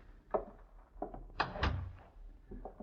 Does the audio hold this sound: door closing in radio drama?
yes